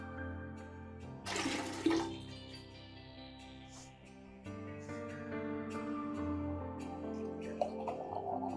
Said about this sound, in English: I'll get the water here and give it a quick rinse.